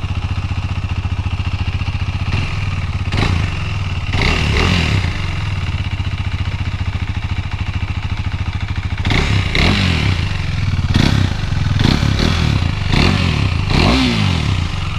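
KTM Duke 390 motorcycle idling with its silencer removed, a loud close raw exhaust putter with several quick throttle blips rising and falling, no speech.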